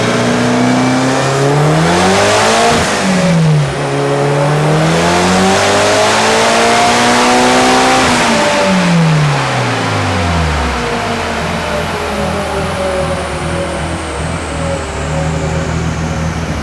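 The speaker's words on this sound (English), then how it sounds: "I think we need to take it for a drive" A Mitsubishi Evo 9 wagon with a 2.3-litre stroker engine accelerates hard on a drive, loud and close, its engine note climbing through gears with brief drops between shifts, then easing off toward the end.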